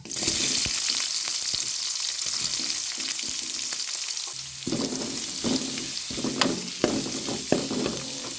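Steady sizzling of chopped large onions frying in hot oil with salt, with occasional soft stirring scrapes and pops rising above the constant crackle.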